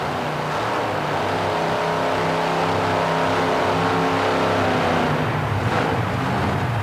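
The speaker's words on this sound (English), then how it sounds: "He clears the throttle a couple of times, but it doesn't sound much better." A monster truck's big engine growls and revs loudly and continuously at a USHRA monster truck event, its rough roar rising and falling.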